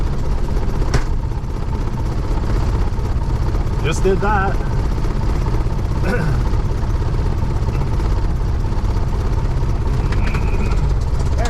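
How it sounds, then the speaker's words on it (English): A small single-engine airplane's propeller engine drones loudly and steadily throughout after startup, with brief voices speaking over it. "Starting an airplane by myself."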